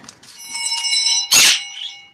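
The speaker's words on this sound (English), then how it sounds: "Why is your alarm basically the bells of Notre Dame" An alarm rings loudly with bright, bell-like chiming tones that sustain and overlap, and one sharp louder strike comes near the end; the ringing stands alone without speech.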